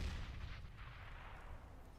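A grenade blast in Counter-Strike rumbles out as a single muffled boom, fading into a low, faint decay.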